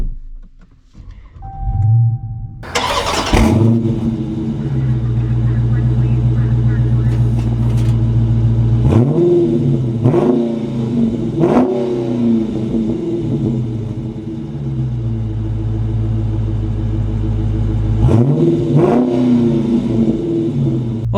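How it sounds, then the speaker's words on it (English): A Chrysler 300C with a 6.4 Hemi V8 fires up after a brief electronic chime, then settles into a loud, deep idle rumble, punctuated by three sharp revs that flare and fall back. "a car that has a rumble this deep"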